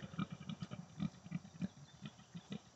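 Piglets grunting in short, soft bursts, roughly a few per second in an uneven rhythm, fairly close and fairly quiet, with no voices.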